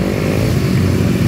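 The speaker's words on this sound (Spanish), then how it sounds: "Miren allá el montón de motocicletas que vienen saliendo" Motorcycles pass at a busy road junction near Zapotitán, giving a loud, close, continuous engine drone with a throbbing, buzzing tone.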